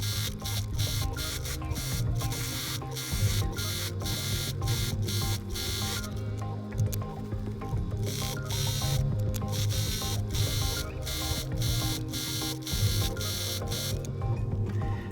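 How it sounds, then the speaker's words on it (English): A sewing machine runs steady top stitching on a sweatshirt with a 1/4 inch seam guide on the presser foot, a close continuous mechanical hum broken by brief pauses. "I use my 1/4 inch seam guide on my presser foot for the top stitching."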